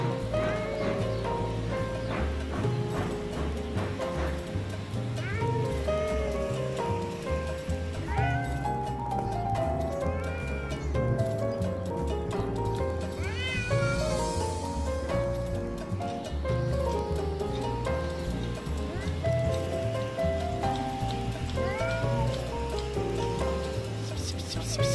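A cat meows in short, rising calls over loud, continuous background music, with the mewing surfacing intermittently through the dense musical bed.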